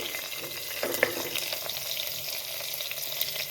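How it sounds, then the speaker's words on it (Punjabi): Onions, green chillies and ginger hit hot oil with toasted cumin, giving a steady broadband hiss close by with a few brief clinks and scrapes; no one speaks. "ਇਸ ਵਿੱਚ ਪਿਆਜ਼ ਐਡ ਕਰਾਂਗੇ ਹਰੀਆਂ ਮਿਰਚਾਂ ਐਡ ਕਰਾਂਗੇ ਅਦਰਕ ਐਡ ਕਰਾਂਗੇ"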